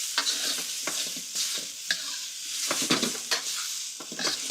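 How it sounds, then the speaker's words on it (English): Cooked rice pressed into a hot pan with mushrooms and carrots sizzles steadily, broken by repeated scraping stirs of a utensil against the metal, close and continuous with no talking. "Pressing the rice down against the pan so that the grains can sear is a nice"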